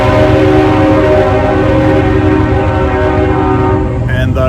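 A passing train in Fairport, New York blasts its horn in a loud, sustained, near blast over heavy rumbling wheel noise, filling the whole stretch.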